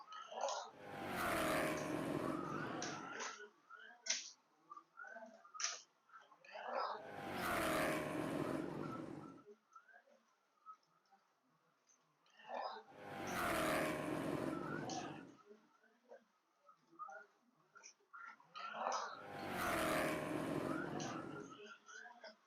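Slot cars racing around a home slot car track, magnets fitted in the cars, making four loud whirring passes that swell and fade roughly every six seconds, with softer clicks and clatter between passes.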